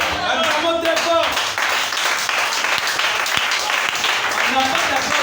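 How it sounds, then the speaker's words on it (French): A crowd breaks into loud, sustained applause and cheering at a French rally, the clapping dense and continuous with voices shouting over it throughout. "Acclamons très fort."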